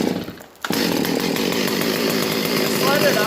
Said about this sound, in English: Let it idle for a bit. Don't even hit the throttle. It'll stall.